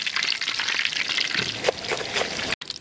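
Banana bonda fry in hot oil with a crackling sizzle, while stirring and scraping sounds come through close by. The frying cuts off for a moment near the end.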